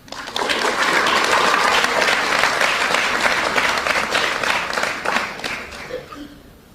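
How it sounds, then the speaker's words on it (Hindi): A live audience at a Hindi spiritual discourse breaks into sustained applause, dense and loud clapping that holds steady for several seconds before tapering off near the end. "एक बार ताली बजाओ।"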